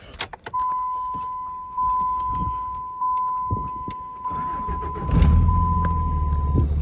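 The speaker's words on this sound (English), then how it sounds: "And the belt's squealing." A car engine idles with a squealing drive belt, a steady high whine running almost the whole time over low rumble, with engine revs near the end; wind and gusty weather in a dust storm.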